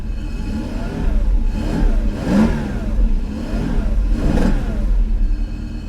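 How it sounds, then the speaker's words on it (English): A 2019 Chevrolet Corvette with a new exhaust idles smoothly nearby, its engine note rising and falling in a few gentle revs over a steady low rumble. "It fires right up. And listen to how smooth it is."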